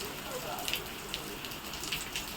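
Steady heavy rain hissing on a surface at a farm home, with scattered sharper drips and taps standing out against the continuous wash.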